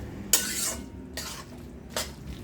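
Vegetable pasta gravy being stirred in a pan, three separate scraping strokes of a spoon against the pan at a steady pace, close and fairly quiet with no talking.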